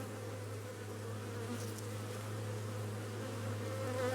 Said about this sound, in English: You silly bees, get out of my way.